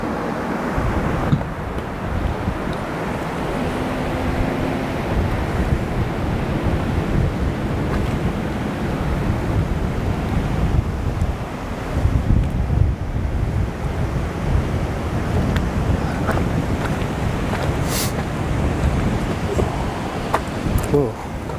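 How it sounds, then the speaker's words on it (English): Ocean waves crash and smash against a shoreline in a continuous roar, with wind buffeting the microphone throughout. "you hear the way those waves are breaking? Yeah, smashing against the shore"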